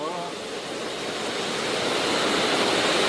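Waterfall at the cirque de Saint Même roaring as a steady broadband rush of falling water, loud and continuous, swelling slightly over a few seconds with no voices.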